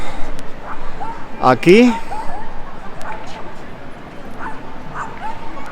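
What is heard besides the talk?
dog barking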